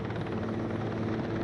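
Eurocopter Cougar military helicopters fly past at a Turkish Air Force centennial airshow flypast, some carrying underslung flags and troops; a loud, steady rotor and engine roar fills the whole stretch without letting up.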